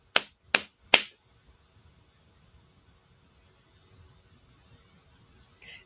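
Three sharp hand claps in quick even succession, loud and close, used to sync a recording, followed by near silence and a faint click at the end.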